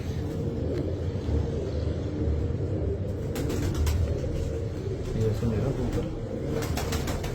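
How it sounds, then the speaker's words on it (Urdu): Pigeons kept by Punjab pigeon fanciers, high-flyer and low-flyer breeds, coo softly and continuously close by, mixed with a low, steady rumble of background noise. "یہ کبوتر آپ دیکھیں۔"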